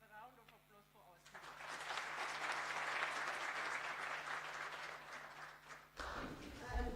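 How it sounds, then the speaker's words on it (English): Audience applause for speakers at a panel discussion on South Sudan: sustained clapping from a seated crowd lasting several seconds, loud and steady, then tapering into a brief pause before a voice resumes near the end. "Can we have a round of applause for our"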